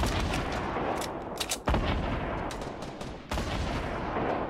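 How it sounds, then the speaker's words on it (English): Rockets and gunfire in the Fortnite Battle Royale game, a rapid series of loud bursts and sharp blasts with heavy booms around the middle and near the end, fairly close. "there's guys down to our left, shooting rockets at us"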